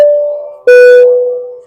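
A short electronic chime from an Arctic Fox Bluetooth speaker powering on: a sustained tone, then a brighter second tone with a ringing buzz that slowly fades, clean and close.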